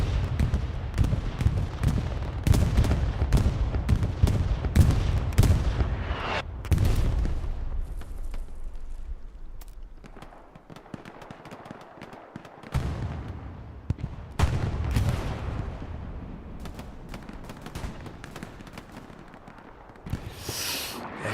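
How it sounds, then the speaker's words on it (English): Bombing run explosions from the WWII shooter Hell Let Loose at the Crossroads point on the Omaha map, heard as a rolling series of heavy booms and blasts that keep coming over roughly twenty seconds, loud, with dense low rumble between impacts. "Let's go see how the bombing run at Crossroads fares"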